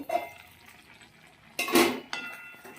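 A pot lid lifts off with a metallic clatter, then a spoon stirs ridge gourd and potato cooking in poppy seed paste, with soft scrapes and a faint sizzle between a few sharp clinks.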